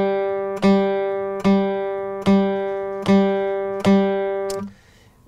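A guitar note struck five times in a steady, even pulse, each ringing briefly before the next, played alone and up close.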